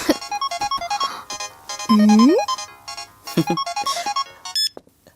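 A mobile phone ringtone plays as a bright, repeating electronic melody of short tonal beeps, loud and alone, broken by a rising swoop and a few brief squeaks near the end.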